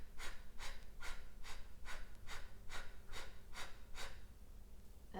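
A person demonstrates breathing exercises, exhaling through the mouth and then through the nose: about eight rhythmic breaths in even succession, soft and close, with no talking.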